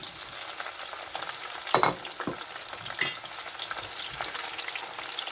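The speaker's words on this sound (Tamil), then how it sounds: "இப்போ கத்திரிக்காய் பொரிச்சிக்கலாம். கத்திரிக்காயும் லைட்டாக பொரிச்சா போதும்." Eggplant frying lightly in hot oil gives a steady, close sizzle with a few louder spatters and stirring scrapes, with no talk.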